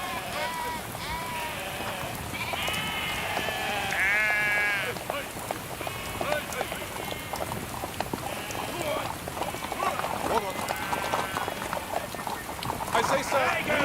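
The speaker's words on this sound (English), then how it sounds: "I say, sir, move your sheep," Sheep bleat repeatedly on a rainy country road, the calls overlapping under horse hooves clip-clopping and steady rain, with people talking at moderate distance.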